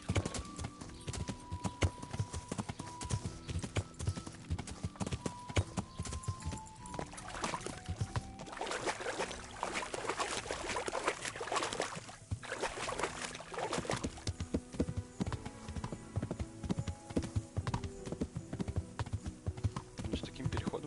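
Horse hooves clip-clop in the video game Kingdom Come, a steady rhythmic trot of hoofbeats running throughout, with game ambience and someone talking over it at moments.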